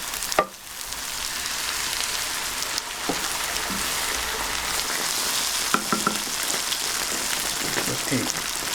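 Wild mushrooms and egg omelette mixture sizzle steadily in butter in a hot pan, a dense close crackle with occasional soft clinks of a utensil.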